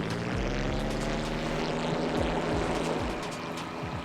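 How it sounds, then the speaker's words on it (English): Propeller plane engine droning steadily in a video game, a small makeshift firefighting aircraft able to scoop water, with a continuous near, loud hum and shifting pitch throughout. "So, our own little jank plane, and we can collect water."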